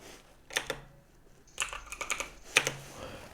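Typing on a computer keyboard at a Windows 10 PC, several short bursts of close, crisp keystrokes separated by brief pauses.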